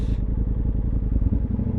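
A Ducati Multistrada V4 S motorcycle, left unused and hooked to a jumper, cranks with a loud, steady, rhythmic churning up close after a brief click, with no voices.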